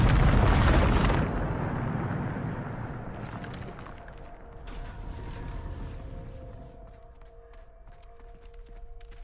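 A Bombarda blasting spell explodes in Hogwarts Legacy with a loud, broad burst, then rumbling debris and crackling that fade as faint mechanical tones linger.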